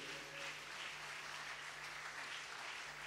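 A church congregation applauding together, a steady wash of many hands clapping at low, even volume, with no voices standing out above it.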